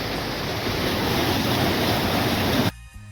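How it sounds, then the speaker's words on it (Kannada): A waterfall runs between two plantations in Uttara Kannada, a dense, loud, continuous rush of falling water heard up close that cuts off abruptly near the end. "ಈ ವಾಟರ್ ಫಾಲ್ಸ್ ಮತ್ತೆ ಯಾರ್ದೋ ಎರಡು ತೋಟಗಳ ಮಧ್ಯೆ ಉಂಟು, ನೋಡ್ಬೋದು."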